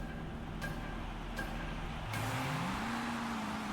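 The Recoil AV SUV drives in a Rocket Racing video game, its engine a steady smooth drone that drops and then climbs in pitch as it accelerates, with a couple of faint ticks early on and no talking.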